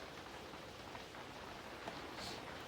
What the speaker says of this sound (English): I just woke up and it's been raining.